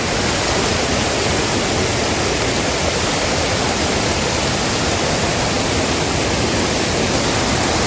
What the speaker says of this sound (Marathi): हा इथे मस्त आहे की ओढा आहे. हे पाणी आलंय वरून.